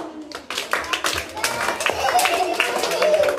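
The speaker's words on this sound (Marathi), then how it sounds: "चला इथे टाळ्या वाजवा." Schoolchildren clapping during a classroom game, a dense burst of quick, uneven handclaps from a group close by, mixed with voices talking over it.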